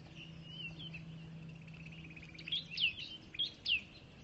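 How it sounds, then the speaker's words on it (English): Birds chirping in trees at the first sunrise of 2016: a few short, high, distinct chirps come in the second half over a steady low background hum, fairly faint and distant. "Yeah, lots of birds."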